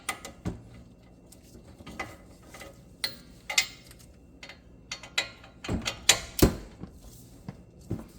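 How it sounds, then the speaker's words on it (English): Ratchet wrench with an 18 mm socket turning out the two bolts of a Ford Fusion brake caliper bracket during a pad and rotor job, heard as scattered close mechanical clicks and ticks with a few sharper metallic knocks, and no talk. "we just remove the two bolts holding this bracket here, and they are being held by 18 millimeter socket."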